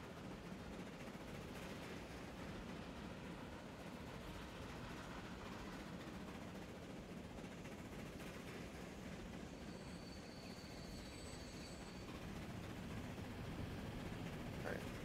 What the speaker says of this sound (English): Why is that train coming through?